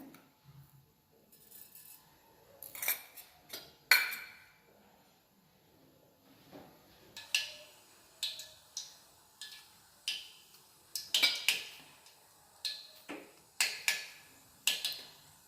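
Mustard seeds splutter in hot oil in a steel pan: sharp, faint pops and crackles that begin sparsely, then come in steady irregular bursts after a brief quiet spell.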